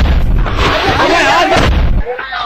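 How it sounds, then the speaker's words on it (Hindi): A loud, broadband blast-like roar of a cooking gas cylinder exploding in a house, filling the clip, with noisy voices mixed in, then dropping away abruptly near the end. "जोरदार धमाका हुआ"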